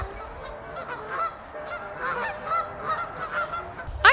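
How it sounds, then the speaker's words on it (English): A flock of geese honks repeatedly at a moderate distance, overlapping calls in an irregular chatter, with one loud nearby honk at the end. "Check out the geese."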